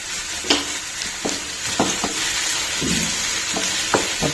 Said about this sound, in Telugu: సాల్ట్ వేసుకుంటే ఏంటంటే ఆనియన్స్ కొంచెం అర్లీగా త్వరగా ఫ్రై అవుతాయి